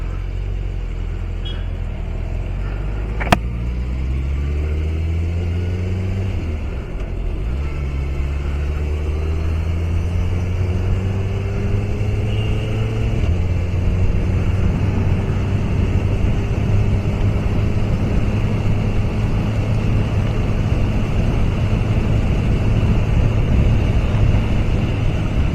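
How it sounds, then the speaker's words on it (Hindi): A car engine drones steadily while driving along the Dwarka Expressway service lane toward Gurgaon, with a low rumbling hum whose pitch rises and shifts through gear changes, plus broad road and wind noise and one brief click. "firing up the engine"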